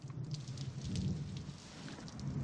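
Steady rain falls outdoors at night, a dense, even hiss of drops on surfaces with no voices, holding at a moderate level throughout.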